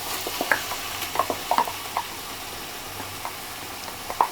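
Onions and tomatoes sautéing in a pan for a Tamil crab curry, a steady sizzle under frequent scraping and stirring taps of a spoon against the pan, close up with no talking.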